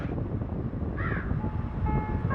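A crow caws briefly in the game Granny, one short harsh call heard over a steady windy ambient background.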